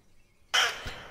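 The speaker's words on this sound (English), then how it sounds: "that pack of crows we disturbed earlier, getting their vengeance" Crows in the video game The Last Dead End give one sudden harsh caw, loud and close, followed by a brief lower rasp that fades out.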